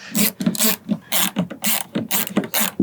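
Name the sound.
ratchet removing grab handle bolts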